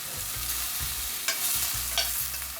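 Beef stew browning in a pan sizzles steadily while a utensil stirs and scrapes through it, with a couple of sharper scrapes against the pan bottom over the low frying hiss.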